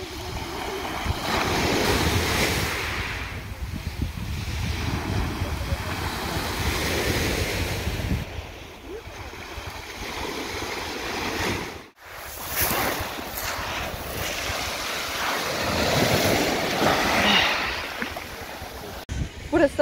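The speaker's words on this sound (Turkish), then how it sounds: "Burası Anamur'un halk plajı." Surf rolls onto the public beach at Anamur in Mersin, a sea turtle nesting shore, with steady broadband wave wash and wind buffeting the microphone, one brief dropout midway, no talking.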